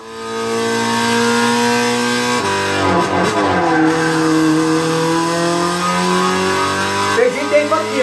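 Car engine revving and shifting through gears on a racing lap up a mountain road, loud and continuous, with pitch climbing and dropping at gear changes and someone talking over it.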